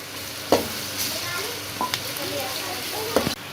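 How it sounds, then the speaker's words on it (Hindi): Chopped green chillies frying with onions in a pan while cooking chicken, a continuous sizzle broken by a few sharp stirring knocks and scrapes, close and fairly loud. "अब हम इसमें कटी हुई सब्ज़ मिर्चें डाल देंगे और इनको 1 से 2 मिनट के लिए फ्राई करेंगे।"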